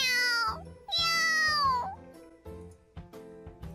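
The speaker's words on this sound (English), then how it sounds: "I hear a cat crying from somewhere." Cat crying in a mobile video game, heard as two long, loud, drawn-out meows followed by a few shorter, softer mews, close and clear with no talk over them.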